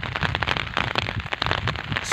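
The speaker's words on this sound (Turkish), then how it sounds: "şiddetli bir yağmur başladı." Dense, steady patter of heavy rain hitting a surface, close and loud throughout.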